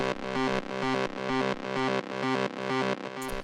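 A Drumcode-style techno synth lead runs through a drum bus effect, giving it a thick, full and echoing tone; the same distorted, pulsing phrase repeats steadily about twice per second, loud and alone.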